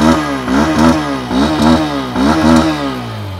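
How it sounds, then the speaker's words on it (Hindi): A 125cc motorcycle engine revved repeatedly with the throttle, about four rising-and-falling blips in quick succession, loud and close with no talk. "थ्रॉटल देता हूँ"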